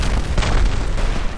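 A mortar shell explodes in the World War I shooter Verdun, a loud, close, rumbling boom with deep low-end that fills the short moment without talk.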